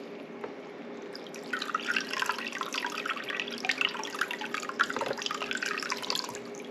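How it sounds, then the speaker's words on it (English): Whey trickling and dripping out of cheddar cheese curd in a cheesecloth-lined colander, a soft steady patter of water that starts after a quiet moment and keeps going. "drain the whey off of the curd"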